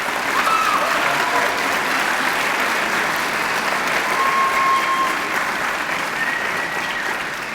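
An audience at a high school National Honor Society induction ceremony applauds in a sustained, loud, even roar of clapping, with a few faint whoops rising above it.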